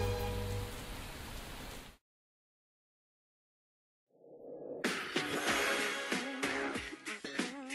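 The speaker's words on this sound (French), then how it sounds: "Et cette pluie qui n'arrange rien." Steady rain falling in Sims 3, a soft continuous patter that stops abruptly into silence, then returns louder with sharper drips and splashes.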